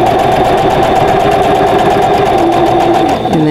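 A sewing machine runs steadily while stitching the points of a Silent Star stash-buster quilt block, one continuous close hum that slows slightly near the end.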